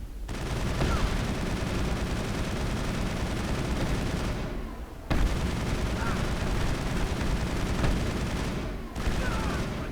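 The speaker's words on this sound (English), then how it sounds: "Open fire. Open fire!" Sustained gunfire from a firefight in the video game Mass Effect, a dense continuous barrage with heavy low-end rumble, broken by two short lulls before the shooting resumes just as loud.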